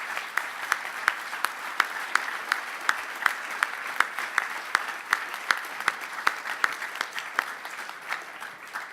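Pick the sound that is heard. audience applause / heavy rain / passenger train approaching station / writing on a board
audience applause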